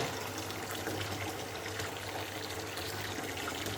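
Water pours steadily into a 120-litre marine reef aquarium during a 20-litre water change, a continuous close splashing gush with a low hum underneath.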